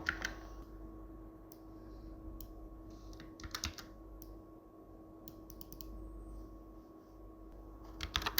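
Quiet, sparse keystrokes on a computer keyboard, in a few scattered clusters of clicks over a steady low hum, with a short burst at the end.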